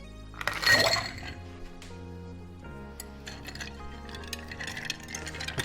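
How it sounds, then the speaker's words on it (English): Cocktail stirred with a bar spoon through ice in a mixing glass, opening with a loud clinking burst and then continuing as lighter, irregular clinks and rattles close up. "Add ice to your mixing glass and give it a stir for 30-40 seconds."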